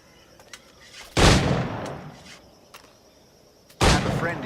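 Two sharp, loud firearm shots ring out a few seconds apart in Assassin's Creed Black Flag, each a sudden blast with a decaying tail, with faint ambient clicks and rustles between.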